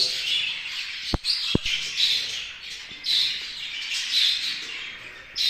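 Show birds held in the hand give faint, high chirps and squawks that come and go throughout, alongside two sharp clicks near the start and light handling noise.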